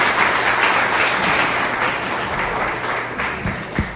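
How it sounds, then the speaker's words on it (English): A large audience at a 2019 annual meeting applauds the governor, a dense, steady wash of clapping that holds for four seconds and eases slightly toward the end. "How about one more round of applause for the governor?"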